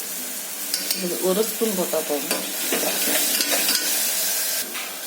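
Ginger garlic paste sizzles and fries in a pan with tomatoes, steady loud hissing broken by stirring scrapes and clinks, while someone speaks over it.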